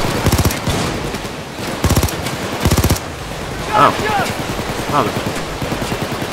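Three loud bursts of rapid submachine gun fire in the video game PayDay 2, each about half a second long, followed by quieter background game noise and a brief spoken exclamation.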